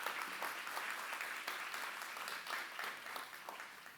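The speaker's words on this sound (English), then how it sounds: "Yes, applaud that." Audience applause at a leadership event in Southeast Georgia: steady, dense clapping from a large crowd, sustained for the whole stretch with no voices over it.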